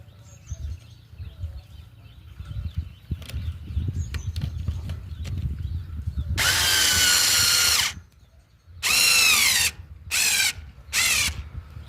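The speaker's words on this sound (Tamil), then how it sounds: "இப்போ இது அடுத்த ஸ்க்ரூ போடுறேன்." A power drill drives a screw into a damaged bathroom door, whining in one long burst and then in several shorter bursts with brief pauses, loud and close over a quiet room.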